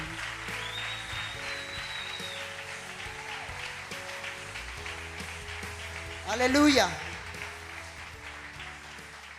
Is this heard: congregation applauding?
yes